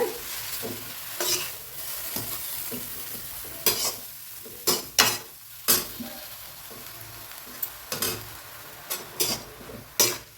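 Greens sauté in a pan under a constant sizzle, while a spatula stirs and scrapes with repeated sharp, irregular strokes, loud and close.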